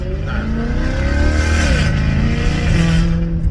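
A brand-new Maserati GranTurismo S engine revs through its exhaust, rising and falling in pitch with a thin, tinny edge, loud and close with no voices over it.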